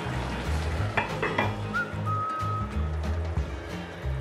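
Chicken stew simmering in a wine sauce in a pot is stirred, with a few soft scrapes and clinks of a utensil against the pot over a steady low bubbling and sizzle, close and moderately quiet, no talking.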